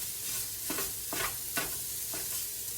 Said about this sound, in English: Get that all found down so you don't get a big old chunk of sausage in your gravy.